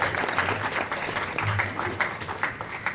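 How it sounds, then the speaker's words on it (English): An audience claps steadily at the Eastern India Science and Engineering Fair, a dense, even round of applause filling the hall throughout with faint voices mixed in. "I request everybody to give a round of applause"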